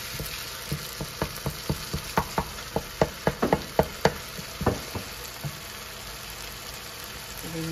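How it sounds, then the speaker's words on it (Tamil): Onion and tomato sauté in a pan for crab curry, a low sizzle punctuated by a quick run of sharp scraping stirs and taps that fade toward a quieter simmer. "வெங்காயம் இப்போ தக்காளியும் போட்டு வதக்கியாச்சு"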